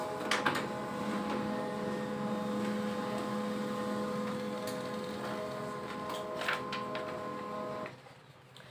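An HP LaserJet 12A-cartridge printer runs through a test page with a steady mechanical hum and a few clicks, then goes quiet near the end, with no speech.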